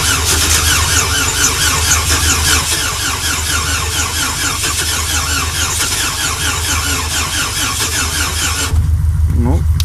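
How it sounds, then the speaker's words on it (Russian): A cold car engine in frost cranks on a 600-amp booster jump start, its starter whining and squealing in a long, loud, rhythmic churn without catching, then cutting off near the end. "Крутит хорошо, завелся бы, если бы не подзалило свечи."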